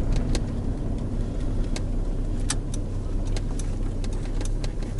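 A manual transmission car engine running while driving, a steady low hum under broadband road and cabin noise, with light ticks and clicks now and then and no talking.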